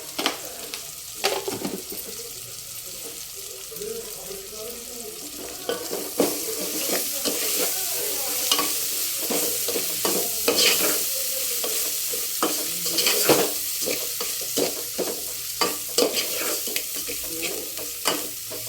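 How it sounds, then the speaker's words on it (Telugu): Ginger garlic paste sizzles in a hot pan for chicken pulao while a spoon stirs and scrapes it in frequent irregular strokes, close and clear. "అల్లం ఎల్లిగడ్డ పేస్ట్ కూడా వేసేసుకుంటున్నా."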